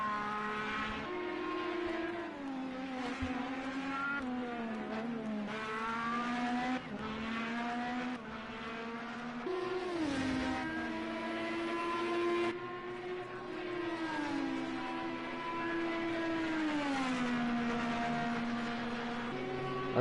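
IndyCar race cars in the Project Cars 2 racing game, a sustained high engine whine that rises and falls with gear changes and acceleration, steady and fairly loud, with no talking.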